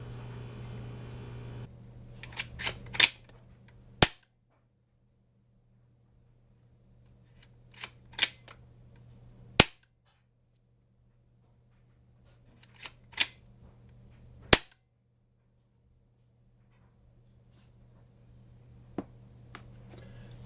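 The Lelya 2.0 blaster fires shots through a chronograph, each one a sharp, dry crack or snap. The shots come singly and in small clusters, separated by long quiet gaps, and sound close and crisp.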